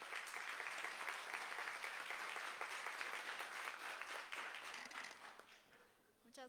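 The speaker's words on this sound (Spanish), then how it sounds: "Un cálido aplauso, por favor." Warm applause from an audience at an academic book presentation on gender studies, dense steady clapping from many hands that holds strong, then thins and fades near the end.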